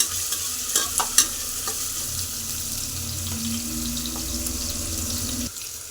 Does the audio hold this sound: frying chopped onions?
yes